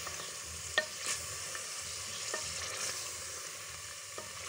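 Spices hit hot oil in a frying pan for a potato and egg dish, giving a steady close sizzle with a few sharp clinks and scrapes of a stirring utensil.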